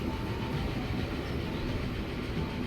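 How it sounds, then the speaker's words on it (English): A train running in Transport Fever 2 on the Baghdad Railway, a steady, dense rumble of rolling wheels and carriages that holds at an even, loud level throughout with no talk. "And we're going to have a ride along on this train."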